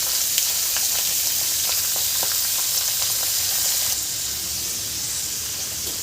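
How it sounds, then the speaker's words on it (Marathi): Pumpkin peel vegetable with turmeric stir-fried in a pan gives a steady, loud sizzle with scattered light scraping clicks from stirring, easing slightly in the last couple of seconds. "इथे हळद टाकल्यावर आपल्याला छान मिक्स करून घ्यायची आहे भाजी"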